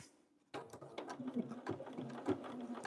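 A sewing machine stitches fabric scraps for a stained-glass-style project, a steady close mechanical whir with quick repeating needle clatter after a brief quiet start.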